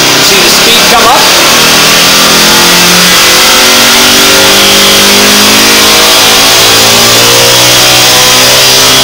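A small engine on a desktop dynamometer revs up as the throttle gradually opens, a loud, rising mechanical whine with climbing tones that builds steadily and fills the whole stretch, with a voice talking over it.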